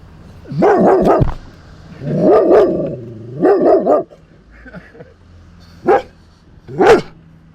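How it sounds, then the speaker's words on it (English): A dog barks in several close, loud bursts, some in quick rapid clusters, with short pauses between, at a rainforest campsite on Vancouver Island. "There's what he was barking at."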